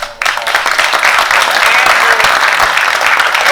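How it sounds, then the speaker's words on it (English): Audience at a community visioning session breaking into a round of applause for two presenters, starting abruptly after a brief quiet moment and continuing as a full, loud, sustained clapping from a roomful of people. "let's give Jamie and Maria a round of applause."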